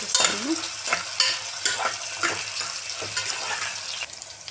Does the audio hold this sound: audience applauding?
no